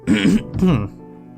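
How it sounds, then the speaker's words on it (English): A person clears their throat twice in quick, rough bursts, close and loud, followed by a brief low exhale. "I'm gonna clear my throat a bit."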